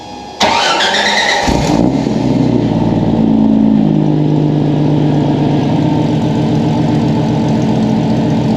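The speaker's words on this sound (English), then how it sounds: "I'm gonna fire it up so you guys can hear a cold start." A Jeep YJ with side exit exhaust cold-starts with a sharp starter crank and catch, then settles into a loud, close, rumbling idle that stays steady to the end.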